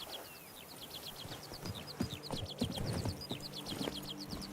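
Roach the horse in The Witcher 3 trots with a faint, regular clip-clop of hooves, growing a bit stronger midway, while birds chirp steadily in the background.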